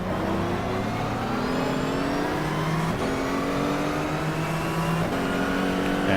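Race car engines drone continuously around Spa in the racing game GTR2, one close engine holding a strained, steady whine and shifting pitch through gear changes while other cars hum nearby.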